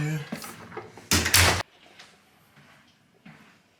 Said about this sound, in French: Et on referme la porte